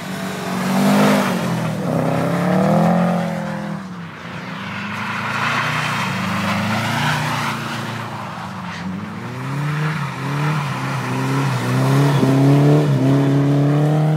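A BMW rally car at a December rally stage in Nowe Miasto nad Pilicą drives past loudly, its engine rising and falling through gear changes over about fourteen seconds with a sustained near roar.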